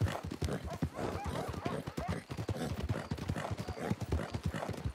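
Horse hooves clip-clop steadily in Red Dead Redemption 2 as a rider travels in free roam, a quick regular trotting rhythm that stays close and prominent over background game ambience.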